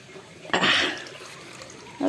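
Water poured into a container of duck food on a farm, a short splashing pour of about half a second followed by a brief second splash.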